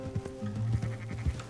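Sheep in Red Dead Redemption II bleating in quick succession, several wavering, nasal cries from a herd close by during a sheep drive, with no talk over them.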